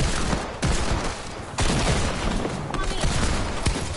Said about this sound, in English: I'm on a burst assault rifle, bro.